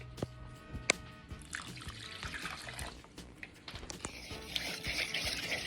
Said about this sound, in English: We're going to add 3/4 cup of warm water. You want to let your hot water run for a long time.